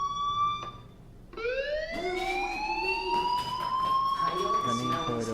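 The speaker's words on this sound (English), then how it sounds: "Hey, do you hear that fire alarm? That means you should be outside." Rising wail of an electronic alarm in the video game Life Is Strange, climbing in pitch and holding steady, with a short break and restart, overlaid by a voice talking and other game sounds.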